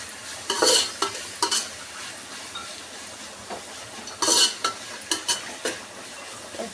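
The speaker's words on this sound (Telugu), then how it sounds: "2 స్పూన్లు అల్లం వెల్లిగడ్డ వేసి మంచిగా కలుపుకోవాలి." Ginger garlic paste stirred in a hot frying pan for a chicken curry, several scraping bursts of sizzle and spoon strokes coming and going over a low background hiss, with no talking.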